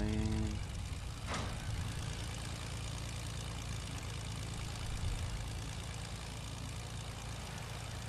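A plane engine in the video game Fortnite drones steadily and loudly for the whole stretch, a continuous low rumble with a brief rushing swell early on and no one talking.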